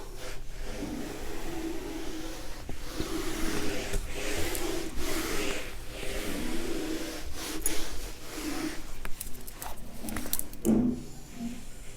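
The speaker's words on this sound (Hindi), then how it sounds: "तो मैं जरा इसको रब कर देती हूँ।" Rubbing out writing on a board during an accounting class, with repeated scrubbing strokes in uneven bursts, close and moderately loud, with little or no talk.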